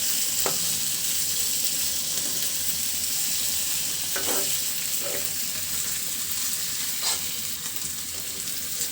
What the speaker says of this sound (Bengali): এই যে ভাজতে ভাজতে কিন্তু মাছের এই কোষগুলো খুলে আসবে।